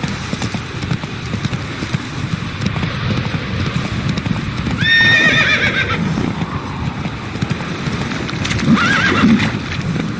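A horse named Roach gallops in The Witcher 3, the steady clip-clop of hooves running close and loud throughout, with a couple of whinnies partway through.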